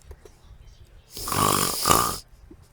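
A voice imitates loud snoring, one long drawn-out rasping breath that swells, dips briefly and rises again before cutting off, close and alone against quiet background.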